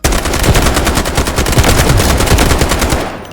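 SCAR-H rifle in the shooter game Delta Force fires a loud, continuous automatic burst of close rapid shots for about three seconds, then cuts off abruptly.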